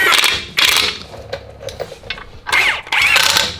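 An impact gun runs M12 bolts into differential skid plates on an Ineos Grenadier, loud rattling bursts close by, two long runs at start and end with lighter clicks and ratcheting between, no talk.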